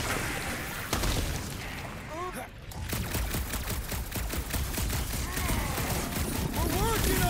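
Dense bursts of weapon fire and impacts in the Guardians of the Galaxy action game, sustained and loud throughout and layered with game effects and voices.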